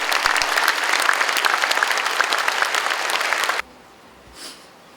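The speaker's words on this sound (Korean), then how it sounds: "다시 한번 큰 박수 보내주세요" Loud, dense applause from an audience at a Korean book concert fills the hall, then cuts off abruptly after about three and a half seconds, leaving near silence.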